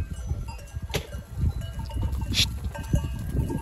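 Goats bleat among livestock on a farm, short cries rising here and there over a busy background of shuffling, clanks and bell-like knocks, fairly faint and distant.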